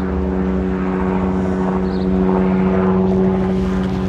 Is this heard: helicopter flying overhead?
yes